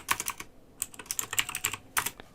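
Rapid keyboard typing, clicks of keys in quick irregular bursts with a short pause midway, close and clear.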